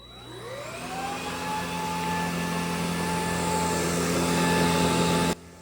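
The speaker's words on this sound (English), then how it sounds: "I really like this Bissell vacuum because it's lightweight, it has excellent suction power" A Bissell PowerClean corded stick vacuum cleaner spins up with a rising whine, then runs as a steady loud whirring hum for about five seconds before cutting off abruptly, with no talking.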